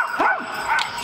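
A human voice imitating a dog's yapping during an outdoor staging of the Bremen Town Musicians fairy tale at a school event in Rastede, two quick, loud, close yips.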